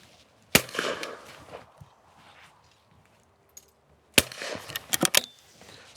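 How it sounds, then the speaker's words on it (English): A Beretta Silver Pigeon 20 bore shotgun fires at clay targets, with two sharp, loud reports a few seconds apart, each followed by a short rumbling tail and some clattering. "That's the 20 bore Beretta."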